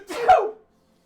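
A single short sneeze, a quick burst of breath with a voiced onset that stops abruptly and leaves silence after.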